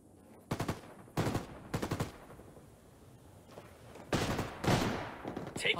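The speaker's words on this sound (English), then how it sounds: "Taking fire" Gunfire in the video game Ghost Recon Ghost War comes in sharp automatic bursts, several short volleys spaced apart and a longer rattle toward the end.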